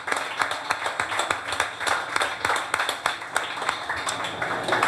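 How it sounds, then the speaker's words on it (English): A small gathering at a high school football show claps for the team's leadership council, a moderate round of scattered, uneven hand claps close by that continues steadily. "Big round of applause for your leadership council."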